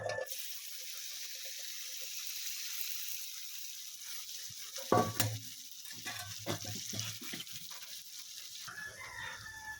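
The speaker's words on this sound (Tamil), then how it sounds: "நல்லா எண்ணெயில் கொதிக்கணுங்க." Steady, crackling sizzle of food with chopped gooseberries frying in hot oil throughout, with a few louder clatters and scrapes midway, like a utensil stirring the pan.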